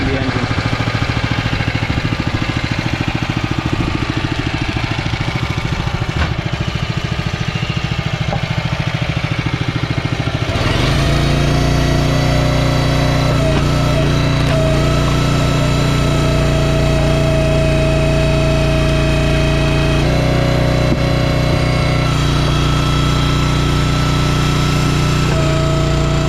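A small Honda GX270 engine on a log splitter runs steadily, then after a clunk settles into a louder, even idle that keeps droning throughout.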